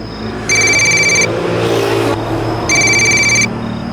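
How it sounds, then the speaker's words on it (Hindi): An old-style telephone bell rings twice in long trilling bursts, loud and close, with a short gap between them over a low background hum and no talking. "तेरी बहन का फोन आया।"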